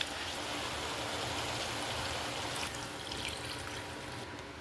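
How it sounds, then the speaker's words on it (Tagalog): Steady splashing of water pouring into a cooking pot of chicken tinola, a continuous trickling stream that eases slightly toward the end, with no voices. "Lagay tayong tubig."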